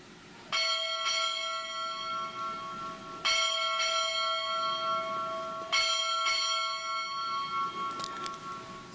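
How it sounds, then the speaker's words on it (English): A ship's bell rings six bells at a naval change of command ceremony, struck in three clear ringing pairs, each pair a few seconds apart, with the tones hanging and fading between strokes. "Time orderly, strike 6 bells"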